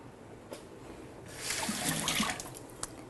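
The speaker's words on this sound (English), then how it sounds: "we are just going to stir this milk gently into the egg and sugar mixture" Milk is poured and gently stirred into an egg and sugar mixture, a soft liquid trickle and swish that swells briefly in the middle, quiet and close with no talking.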